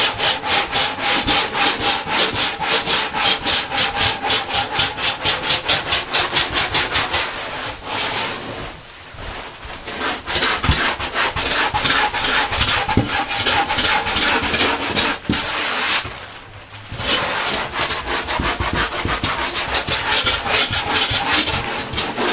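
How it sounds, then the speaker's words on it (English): Sandpaper is worked over surfboard foam to shape a concave bottom, making loud, close, rhythmic rasping strokes in steady back-and-forth runs, with two brief pauses partway through and no talking. "you can shape a concave completely with sandpaper."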